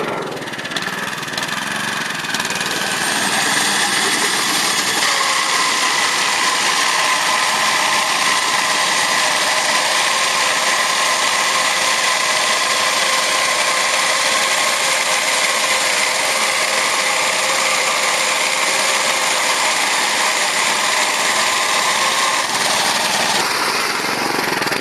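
Engine-driven GreensPerfection brush running over a golf green with the brush set at zero, giving a steady, loud mechanical drone that holds unbroken throughout with no talking.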